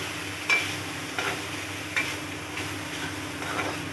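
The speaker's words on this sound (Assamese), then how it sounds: "এতিয়া মাংসখিনি মই এখন কেৰাহীত দি লৈছোঁ আৰু ভালকৈ ভাজি ল'ম অকণমান সময়।" Chicken meat fries in a wok with no oil, giving a faint, steady sizzle and a few soft scrapes of a spatula, heard close and without talk.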